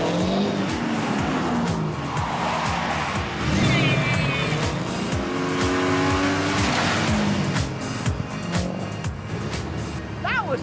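A race car on a hot lap, engine roaring and shifting near the listener, with screeching tire squeal through corners and a voice talking over it.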